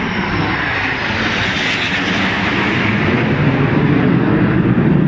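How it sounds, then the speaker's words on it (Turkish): A loud, steady roar of an airplane passing close overhead above the Champs-Élysées in Paris, a continuous rumbling drone that swells slightly. "Ha bir uçak daha geliyor"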